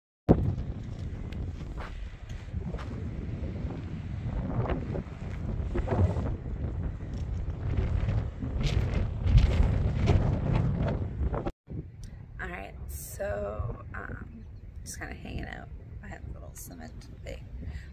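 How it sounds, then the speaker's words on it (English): Wind gusting across a hiker's microphone at a desert wind farm, a steady loud roar and buffeting that runs continuously, easing to a lighter rushing after a brief cut. "In the wind because we're still in the wind farm."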